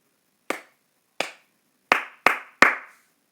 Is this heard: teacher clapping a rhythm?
yes